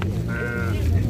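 A sheep at a livestock market gives a single short wavering bleat, close and clear over a low murmur of background activity.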